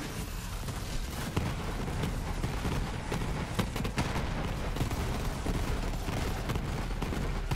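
Gunfire in Borderlands 3 during a boss fight, a dense continuous volley of shots and bursts running steadily throughout at close range, with impacts and explosions mixed in.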